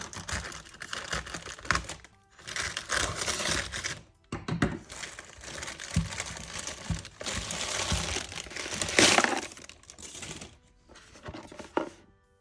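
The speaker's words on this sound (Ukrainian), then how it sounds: "Відкриваємо пакунок." A parcel from AliExpress is torn open by hand, close crinkling and ripping of plastic packaging in bursts separated by short pauses, with a sharper tearing flurry near the end and no talk.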